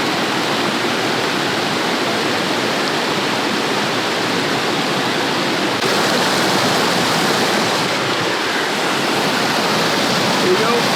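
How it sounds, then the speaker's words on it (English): Steady rushing water at a river crossing in the Scottish Highlands in winter, a dense continuous wash of sound close by with no clear voices over it. "we're coming to the river crossing now"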